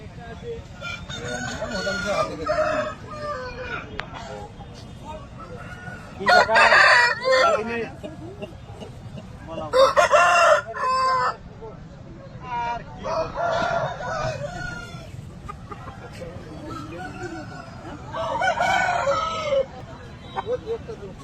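Asil roosters crow repeatedly, with several loud, drawn-out cock-a-doodle-doos spaced a few seconds apart over a low background hum, faint clucking and occasional voices.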